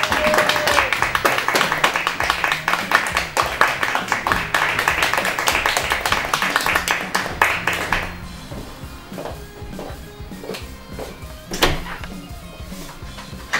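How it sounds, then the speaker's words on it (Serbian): Applause with dense clapping from a studio audience greeting a guest costumed as Emperor Constantine the Great on a comedy talk show, loud and steady for about eight seconds, then thinning to a few scattered claps and knocks. "Molim jedan gromoglasni aplauz."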